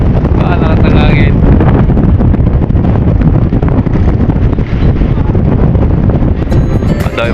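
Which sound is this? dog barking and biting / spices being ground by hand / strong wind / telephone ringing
strong wind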